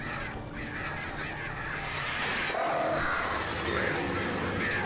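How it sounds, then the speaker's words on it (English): Several crows caw in the dark woods of the video game Alan Wake, harsh repeated calls at middle distance over a continuous ambient rumble and wind. "Freaking crows!"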